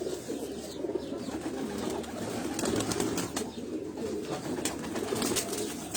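Sialkoti pearl pigeons coo softly and repeatedly in low, throaty murmurs, several birds overlapping in a steady, moderately quiet chorus on a rooftop.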